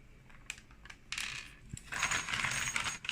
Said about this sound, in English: we're going to put pegs on the small holes.